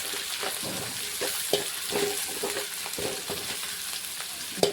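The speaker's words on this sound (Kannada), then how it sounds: "ಹಾಕ್ಕೊಂಡು ಒಂದು ಸ್ವಲ್ಪ ಚಮಚಲಿ ತಿರುಗ್ತೀನಿ" Black pepper stirred with a spoon in a frying pan, a constant sizzle under repeated scrapes and knocks of the spoon against the pan, close and with no voices.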